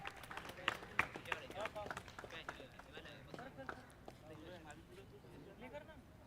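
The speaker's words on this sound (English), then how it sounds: "a big round of applause for our investors" A startup festival audience in Pune gives scattered, faint applause for an investor panel, with sharp individual claps standing out near the start over a noisy hall.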